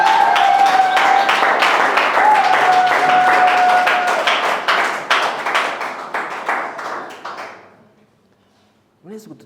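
An audience claps rhythmically in unison, loud and close, the claps gradually thinning and fading out, followed by a brief burst of sound at the very end.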